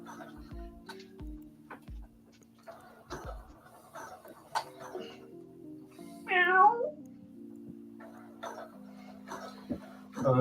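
A cat meows once, a short rising-and-falling call near the middle, over quiet indoor room tone with faint ticking and soft knocks.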